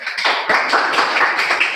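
A classroom claps for a student, a short burst of quick, fairly loud overlapping hand claps from a small group, without talking.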